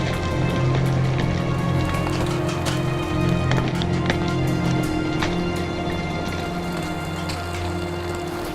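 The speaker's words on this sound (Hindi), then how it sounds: "यहाँ हवा चल रही है और बारिश भी हो रही है।" Steady rain and wind on the Karakoram mountain road in Pakistan, a dense continuous patter with scattered sharper drops, close and loud, alongside a low steady engine-like hum throughout.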